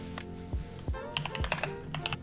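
Computer keyboard keys tapped in a quick irregular burst while code is written, close and fairly quiet, with a few heavier thunks among lighter clicks.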